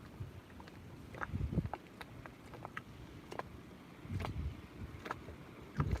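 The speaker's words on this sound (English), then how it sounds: "I like the sound of that water lapping on the bottom of the dinghy there." Soft, irregular water sloshing and lapping against the bottom of a dinghy hull, close by, with gentle slaps and low gurgling throughout.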